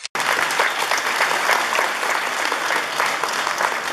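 A strong round of crowd applause at a municipal event in Naupan where a roof structure is handed over to a high school, honoring the municipal president. It begins abruptly after a brief sharp sound and stays steady throughout.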